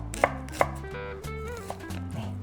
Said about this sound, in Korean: 이것도 이렇게 잘게 썰어서